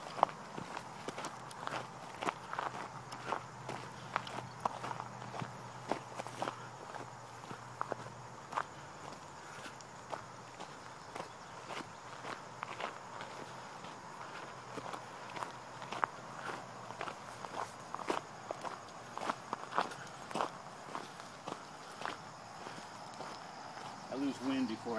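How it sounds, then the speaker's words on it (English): Barefoot running footsteps on a hard surface, a steady stream of light, quick slaps with a fairly even rhythm, close and moderately loud over low background noise. "So I run."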